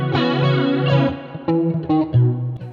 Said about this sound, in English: a big part of my guitar sound at that time in the Police was the flange sound